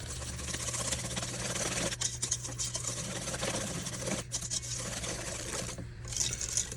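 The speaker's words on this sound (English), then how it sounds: "We're going to mix this up. And we're going to mix it until smooth." Peach cobbler batter made with milk, stirred until smooth in a bowl, producing a steady close whisking and scraping rustle that runs without pause and nobody speaks over it.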